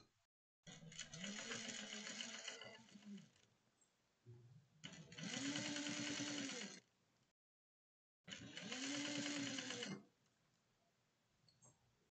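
A sewing machine stitching a fabric bag with khaki thread runs in three loud, steady bursts of several seconds each, with short pauses between them for backstitching. The motor whirs close up and alone.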